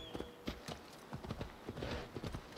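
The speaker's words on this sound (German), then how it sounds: "dann rufe ich mal einfach ein Pferd und dann reiten wir dahin" Horse hooves clip-clopping in the video game Assassin's Creed Valhalla, a steady run of close, crisp hoofbeats in an uneven trotting rhythm.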